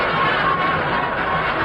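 Huge crowd at a World Series baseball game between the Indians and Braves, with many standees: a dense, steady roar of murmuring voices, loud and continuous, with no single voice standing out.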